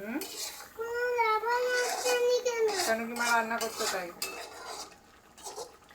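Elephant-foot yam curry, sweetened with a little sugar, gets stirred in a pan with a utensil clinking and scraping against the metal, close and steady, while a voice talks over it almost throughout.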